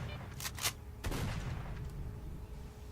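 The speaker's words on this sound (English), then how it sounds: "Someone's still shooting at me." Gunfire in the video game STALKER: Shadow of Chernobyl, with a couple of quick shots followed by a heavier blast that echoes out over a steady game ambience.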